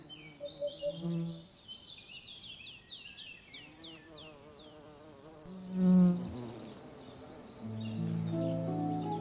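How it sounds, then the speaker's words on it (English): Long-horned bees buzzing at tall spikes of violet tufted vetch flowers: steady droning hum rising and falling as insects pass near, with bird chirps in the background and a louder close buzz midway. "The long-horned bees head straight for the tall spikes of the tufted vetch."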